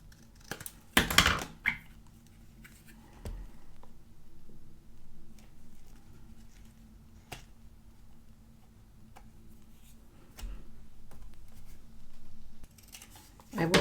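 Scissors snip paper for a junk journal page in a quiet room, a few crisp cuts and faint ticks spread out with gaps between them, while a soft voice murmurs now and then.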